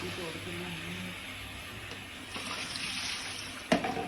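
Fallen jamun fruit being rinsed under running tap water, a steady soft splashing stream that continues throughout, with a brief knock near the end.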